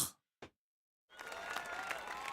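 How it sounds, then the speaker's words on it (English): A crowd in a visual novel video game bursts into loud sustained applause after two brief earlier sounds and a silent pause. "There isn't one still body in the building as everyone erupts in applause."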